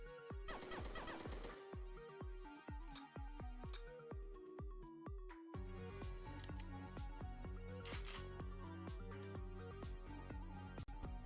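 Robots in a video game fire guns nonstop, with rapid rhythmic bursts of shots and clanking impacts layered over game sound, loud and continuous throughout.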